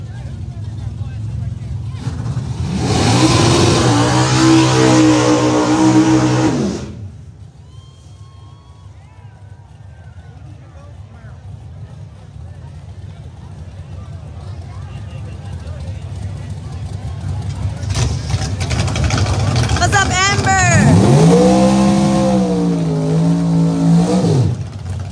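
Street race cars roar past at a Memphis street race, two loud bursts of engines accelerating and revving hard, separated by a quieter stretch of ambient crowd noise.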